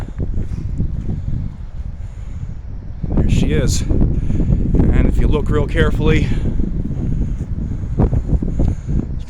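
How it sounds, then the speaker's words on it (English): Outdoor speech with steady wind buffeting the microphone, a low rumbling roar that thickens partway through and persists under the voice. "So I apologize for the wind."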